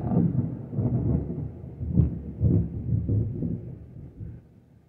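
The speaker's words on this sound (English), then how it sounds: "it ain't raining, it's just thundering and lightning" Rolling thunder from a storm with no rain, a steady low rumble with several heavier swells and a stronger crack near the middle, fading toward the end.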